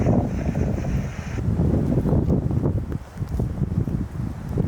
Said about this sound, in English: Because the wind is so strong right now